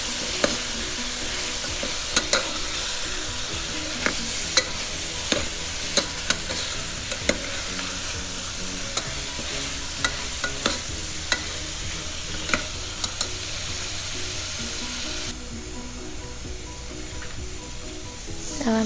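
Vegetables frying in a vessel for carrot and beans sambhar, a continuous close sizzle punctuated by sharp metallic taps and scrapes of a spatula against the pot, no talking.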